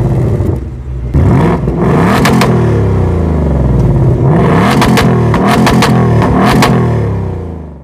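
A 2024 Ford Mustang GT's V8 quad exhaust revs hard several times, deep rumbling bursts rising and falling, loud and close, with a brief lull between blips.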